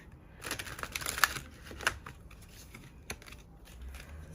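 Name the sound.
slowly shuffling slippery tarot cards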